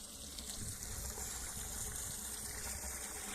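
Water pours and gushes steadily into a pond, a continuous broad rushing sound that stays even throughout, close and fairly loud.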